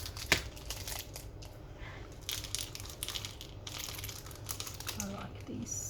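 Scissors cutting open a crinkly plastic package wrapper at a craft table: close, quiet snips and crackling rustles in irregular bursts, with faint soft talk in the background.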